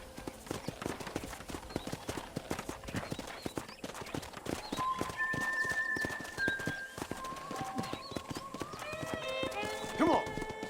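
Horse hooves clip-clopping at a steady riding gait across a ranch property in Red Dead Redemption, a quick regular beat under speaking voices and ambient music tones.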